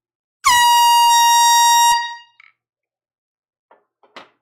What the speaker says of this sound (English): Here's the air horn.